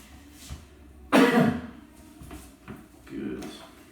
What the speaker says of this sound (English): Now, can you give me a cough?